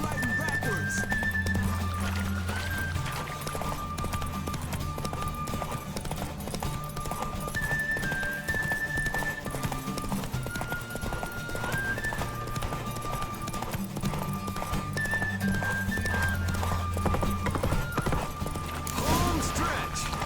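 Hoofbeats clatter steadily as horses gallop side by side in a race in The Witcher 3, blended with game music and occasional voices talking over the run.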